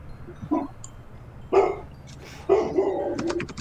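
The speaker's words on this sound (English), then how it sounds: "Dog." A dog barks in three separate bursts about a second apart, moderately close and fairly loud, with quieter whimpering sounds between them.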